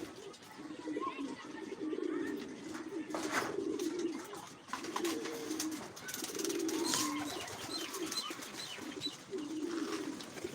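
Giribaz pigeons near their cage coo in repeated low, throaty phrases, close and steady, with a faint voice now and then in the background.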